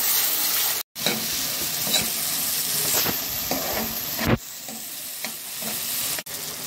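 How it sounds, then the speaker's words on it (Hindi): Tomatoes sizzle and fry in a salted pan for dal, a steady hiss broken by stirring scrapes and a couple of brief pauses, close and fairly loud. "टमाटर हमारा फ्राई हो गया है"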